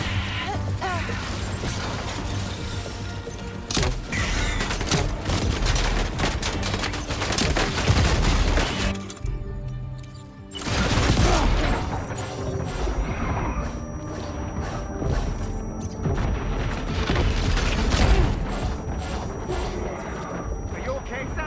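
Sustained gunfire from the Death Stranding 2 video game, with dense bursts of shots and crashing impacts running throughout, loud and close, mixed with game voices and music.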